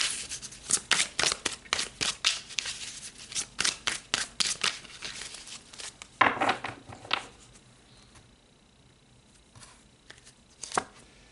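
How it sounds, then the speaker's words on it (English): Tarot cards being shuffled and pulled from the deck, a run of crisp riffling bursts and slaps up close, then quieter with a few last snaps, no voices. "let's pull some more cards"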